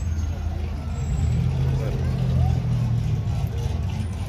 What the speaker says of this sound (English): So a lot of cars out here right now.